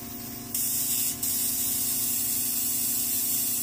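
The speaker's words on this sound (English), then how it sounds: "I'm just going to spray the nose again." A close, steady hiss of facial spray mist on the nose during a machine facial, continuous for several seconds with a brief break early on.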